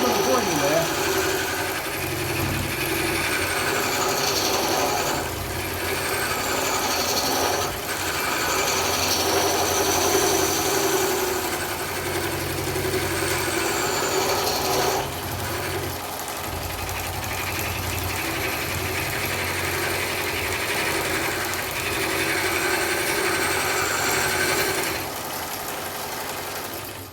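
Hollowing tool cutting wood on a lathe, a steady loud scraping and whirring drone lasting throughout with slight rhythmic variations, close and continuous.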